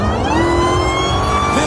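A tuned car's engine revs hard and loud up close, its rising whine sweeping upward in pitch across the short burst.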